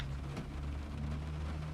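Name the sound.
heavy rain in Train Simulator 2021 video game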